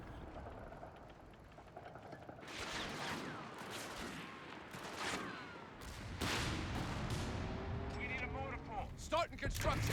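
Machine gun fire and other battlefield shots in the strategy game Company of Heroes 3, a dense run of sharp bursts and cracks, with a voice talking over the combat.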